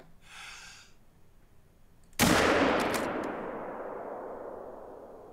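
A single loud hunting-rifle shot in theHunter: Call of the Wild, aimed at a Siberian brown bear, cracks sharply and rolls into a long fading echo after a quiet, tense lead-in.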